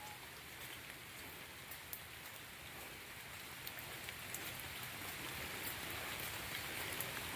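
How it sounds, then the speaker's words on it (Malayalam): Steady rain falls around a houseboat on the Kumarakom backwaters of Vembanad Lake, a dense, even hiss of drops on surfaces and water that builds slightly, with no voices. "മഴ പെയ്തുകൊണ്ടിരിക്കുന്നു."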